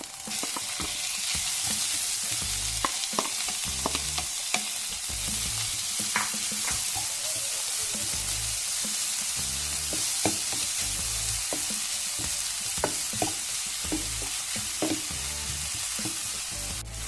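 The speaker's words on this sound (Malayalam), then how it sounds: "അങ്ങനെ ഉള്ളി വഴണ്ടി വന്നിട്ടുണ്ട്" Finely chopped onions sauté in a pan for rajma masala, giving a steady close sizzle with repeated clicking and scraping strokes of a spatula throughout, and no talk.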